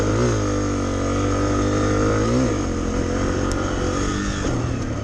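A 2023 Honda CRF250F farm-bike motorcycle engine revs in a steady, loud drone, with a few throttle blips rising and falling in pitch over several seconds.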